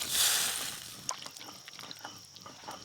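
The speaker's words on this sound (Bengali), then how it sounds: "এবার জল দিয়ে দেবো।" Water poured into a hot cooking pan of fried potatoes and small eggplants for a village-style shrimp curry: a loud rushing hiss in the first second that fades into faint crackles and scattered drips.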